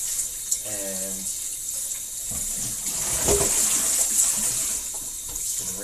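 Tap water runs into a kitchen sink while a pot is rinsed, a steady hissing stream that splashes and shifts as the pot moves under it, with a brief spoken word.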